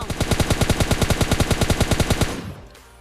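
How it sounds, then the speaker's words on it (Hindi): Automatic gunfire in PUBG Mobile Lite: a fast, evenly spaced burst of about twenty loud, close shots lasting two seconds, then a short fading tail. "अब यहाँ पर इस बंदे को नॉक करने के बाद मैं फुल फ्री फायर देता हूँ इस बंदे को फिनिश करने के लिए"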